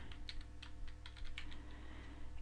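Quiet, rapid typing on a computer keyboard, a steady run of light key clicks entering a name into a web form, heard alone.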